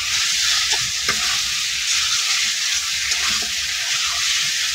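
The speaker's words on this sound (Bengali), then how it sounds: "মশলাটা কিন্তু আমি ভালো দিয়ে কষাই নিচ্ছি" Spice paste with small puti fish frying in a pan, a steady bright sizzle with occasional scraping stirs of a spoon, continuous and close with no voices.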